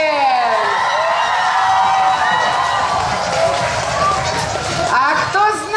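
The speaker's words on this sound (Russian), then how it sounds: "Бурные аплодисменты!" A loud audience at a live Russian stage event keeps cheering and whooping without a break, a dense wall of excited voices with some clapping, children's shouts standing out.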